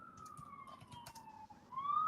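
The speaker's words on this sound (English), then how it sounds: "Oh, it's an ambulance." An ambulance siren sweeps steadily in pitch as it passes at a moderate distance, wailing alone with faint background noise and no talk.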